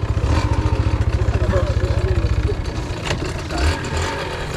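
A two-stroke motorcycle engine, close and loud, running with a fast pulsing throb that smooths out as it builds, while a person shouts over it.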